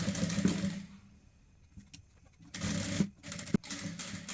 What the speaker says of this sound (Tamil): இந்த லைனிங்கை நல்லா உள்ளே தள்ளி விட்டுட்டு மெயின் கிளாத்தில் தையல் போடுங்க